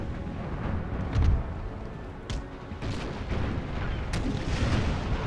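Napoleon-era ship cannons fire during a naval battle in the strategy game Napoleon: Total War, with scattered booms and sharp cracks, some near and some distant, over a continuous low battle rumble and no speech.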